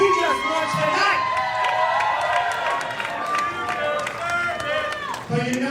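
Crowd at an indoor wrestling event in a rec room cheering and shouting loudly throughout, with excited whoops and yells close by, rising and falling over several seconds.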